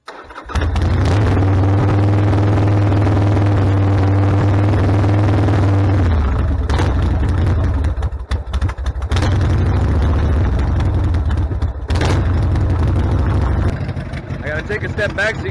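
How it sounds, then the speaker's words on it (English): A Harley-Davidson motorcycle engine with a freshly rebuilt carburetor runs loud and close as it warms up, a steady low rumble with a few throttle shifts and brief dips; no clear talk is heard over it. "we're gonna let the bike warm up a bit, and then I'll turn the choke off and we'll see how it idles"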